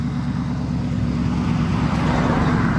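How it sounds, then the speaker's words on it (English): A quiet 2007 Mercury Grand Marquis with chrome exhaust tips idles with a smooth, steady low hum. Nothing else is heard, and the tone stays even throughout. "The engine is very quiet."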